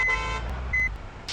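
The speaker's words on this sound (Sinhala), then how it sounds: "මේ හෝන් ගහනවා" A vehicle horn honks twice, a longer blast followed by a short one, loud and close, with some background rumble.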